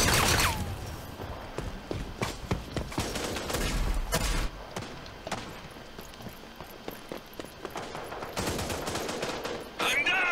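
Gunfire in the video game Rogue Company: sustained automatic bursts and rapid shots that overlap in dense fusillades, loud and close throughout, with brief mechanical clicks mixed in.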